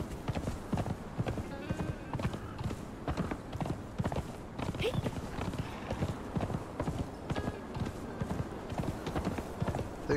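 Horse hooves clip-clopping in the PC survival game Conan Exiles, Isle of Siptah: a steady, evenly paced run of hoof beats throughout, moderately loud, with a faint whinny and quiet game ambience beneath.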